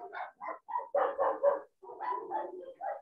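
Several dogs barking in a run of quick, fairly close yaps and barks, two bursts separated by a short pause, with no talk over them.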